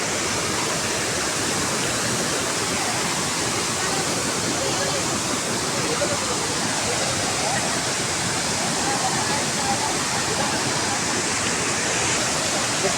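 Tirathgarh waterfall roars with a steady, dense rush of fast-moving water. The wash is close, constant and unbroken for the whole stretch.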